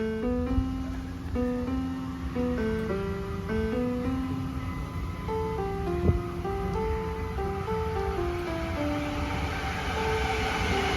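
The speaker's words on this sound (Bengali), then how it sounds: "এই তো ট্রেন চলেছে" A train runs through New York toward Manhattan, a steady rumble with shifting tonal squeals and hums across the whole stretch, fairly faint and with no talk.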